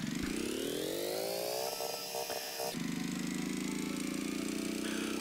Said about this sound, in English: It stays there until the engine returns to idle.